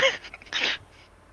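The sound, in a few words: imitated sneeze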